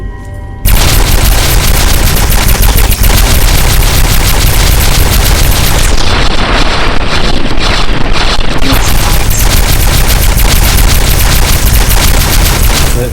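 Rapid automatic gunfire in the Fallout New Vegas game, loud and continuous for nearly the whole stretch as a dense unbroken barrage with no pauses, from a weapon powered by power armor.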